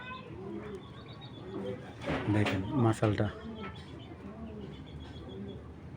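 A pair of racer pigeons, cock and hen, coo in low rolling phrases close at hand, mostly under a voice as he talks.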